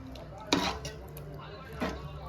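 A spoon stirs pesara punugulu curry, moong dal fritters in gravy, in a metal pot, giving two sharp clinks against the pot with soft scraping between, close and moderately loud.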